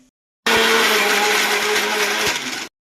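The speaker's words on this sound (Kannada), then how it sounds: "ಹಾಂ, ಅದನ್ನು ಗ್ರೈಂಡ್ ಮಾಡಬೇಕು ಇವಾಗ." Electric kitchen mixer grinder whirring steadily for about two seconds while blending onion, cinnamon and cloves for a sambar with sprouted field beans, brinjal and potato, loud and close with a constant motor hum that starts abruptly and cuts off.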